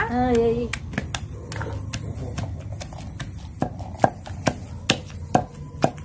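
Garlic and cumin seeds are pounded for a pomegranate chutney, with sharp, close thuds striking at an irregular, then steadier pace, preceded by a brief voice at the start.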